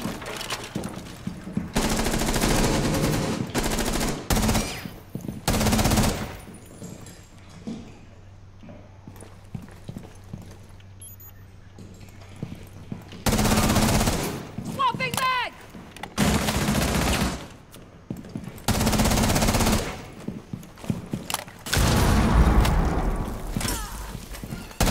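Gunfire in the Rainbow Six Siege video game, with several bursts of rapid shots fired through a kitchen and loud clusters of shots separated by quieter stretches.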